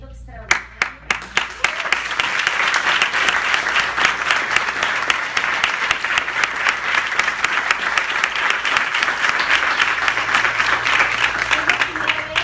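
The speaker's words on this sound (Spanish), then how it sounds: "quiero darle un aplauso enorme a todo el equipo" A theater audience at a Miami post-show debate with the playwright breaks into sustained applause. It opens with a few sharp separate claps, then swells into dense, steady clapping from a large crowd that fills the room for the rest of the stretch.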